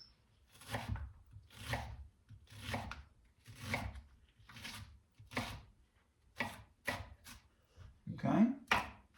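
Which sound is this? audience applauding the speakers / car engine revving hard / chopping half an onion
chopping half an onion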